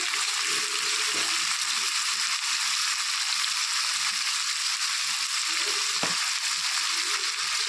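Ginger, garlic, onion and green chilli paste frying in a pan for chicken kalia, a steady loud sizzle throughout with a few faint stirring knocks.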